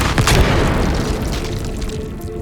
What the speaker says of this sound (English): causing a massive explosion